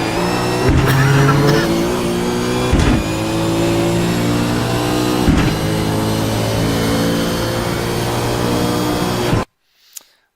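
V8 race car at full throttle on the start-finish straight in Montreal, engine droning loud and close from onboard with rising pitch through a couple of gear changes, then cutting off abruptly near the end.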